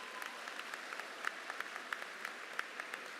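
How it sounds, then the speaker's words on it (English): Scattered applause at a high school graduation ceremony honoring the orchestra and band, fairly faint with distinct individual claps popping out of a soft steady patter, no voices over it. "Let's give them a big round of applause."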